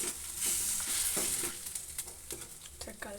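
Tomatoes cooking in a pan for curry being stirred, scraping strokes repeating every half second or so over a soft continuous sizzle, close and moderately loud.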